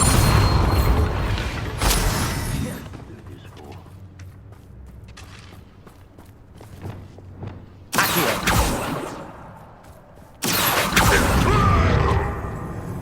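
Bombarda spell blasts in the video game Hogwarts Legacy: several loud, broadband booming explosions near the start, middle and end, separated by quieter stretches of creaking mechanisms and ambient rumble.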